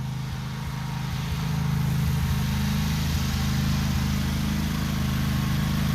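A Cub Cadet Super LT 1554 lawn tractor engine runs steadily at close range, a continuous low droning hum with a slight rise in loudness partway through, no talking.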